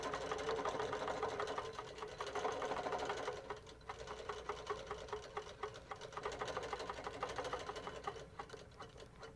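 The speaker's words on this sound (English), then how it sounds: "I'm going to hit my play button or my start button and start stitching a nice" A Moxie XL quilting sewing machine stitches a straight line, giving a rapid, steady mechanical chatter of needle strokes that runs continuously and close up, briefly dipping midway, with no talking.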